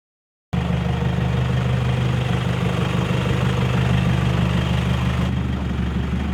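A Toyota Hilux engine runs steadily and loud from just after the start, a constant low idle-to-light-throttle drone as the truck drives up onto ramps, with no talking over it.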